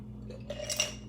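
Spoon stirring lavender lemonade over ice in a glass, a short run of light metallic clinks and swishes close by, with no talking.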